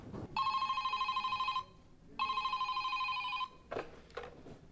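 A telephone bell rings in two long, loud electric bursts with a short pause between them, inside a quiet house, followed by a couple of soft knocks.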